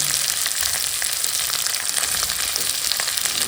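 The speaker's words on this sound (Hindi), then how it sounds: "अब मैं डाल दी इसमें मोटा कटा हुआ प्याज।" Coarsely chopped onion fries in a pan with a steady, dense sizzle and crackle, close and fairly loud, with faint stirring and no talk.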